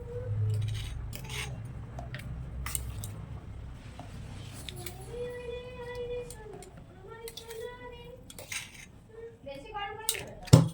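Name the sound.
dishes and utensils clinking while preparing milk for a child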